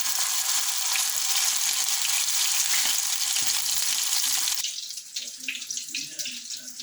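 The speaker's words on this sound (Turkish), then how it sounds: "Üstü yağda kızartıyorum." Steady, bright sizzling of egg-coated cabbage börek frying in hot oil fills the first part, then drops to a quieter crackle with faint clinks near the end.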